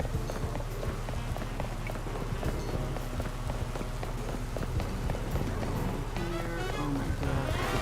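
Rain in a Pokémon video game patters steadily throughout, blended with game music and rhythmic footstep-like taps, a busy, continuous mix at moderate loudness.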